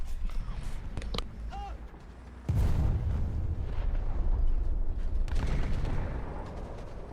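Heavy bomb blasts in the War Thunder combat game, a deep rumbling boom bursting in loudly and rolling on as a dense, low roar with lingering debris noise.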